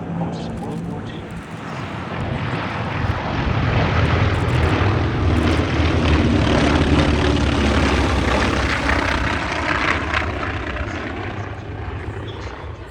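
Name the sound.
T-28 Trojan trainer aircraft flying overhead at airshow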